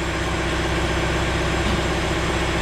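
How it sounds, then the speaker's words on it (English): A John Deere 4066R compact tractor's engine idles steadily, a continuous low diesel drone with constant vibration, close and loud, with no speech over it. "I'm going to see if I can move this with the tractor running."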